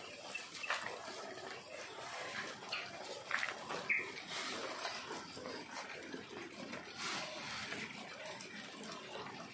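High-pressure water rushes through a water nipple pipe, a continuous faint hissing spray with small splashes, steady for several seconds.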